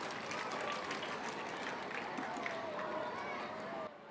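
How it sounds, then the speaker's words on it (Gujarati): A school audience of parents claps hard for honoured staff at a thanks-giving ceremony, a dense, steady wash of applause lasting the whole moment before it drops off abruptly at the end. "જોરદાર તાળીઓ."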